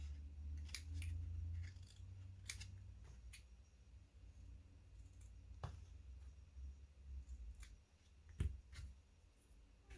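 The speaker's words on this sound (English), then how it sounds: "then we can just trim these sides down" Paper snips as scissors trim the sides of a small paper treat bag, several short crisp cuts and clicks scattered close up over a quiet room hum, with no talking.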